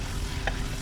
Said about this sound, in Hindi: इसको थोड़ा फ्राई करेंगे मसाले के अंदर